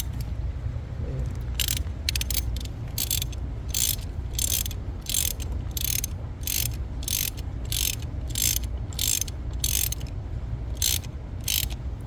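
Hand ratchet tightening fuel injector bolts on a 1997 Toyota Avalon engine: a steady run of quick, close clicking bursts repeating at an even rhythm over a low background hum, with no talking.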